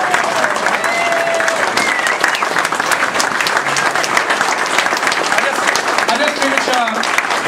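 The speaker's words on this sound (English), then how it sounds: "Give yourselves a round of applause." An audience gives a dense, sustained round of applause at an Elks gathering, loud and close, with some voices mixed in under the clapping throughout.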